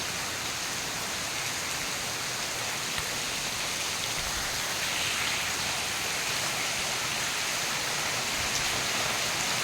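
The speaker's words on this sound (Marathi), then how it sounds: "म्हणजे खूप जास्त पाऊस पडतो" Steady, dense hiss of heavy monsoon rain pouring continuously over farm fields in Mahabaleshwar, loud and even throughout with no voices.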